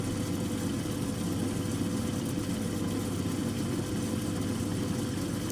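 Steady, continuous grinding wheel whir at close range while a red fused glass oval cabochon is roughed out, a constant dense drone with no breaks.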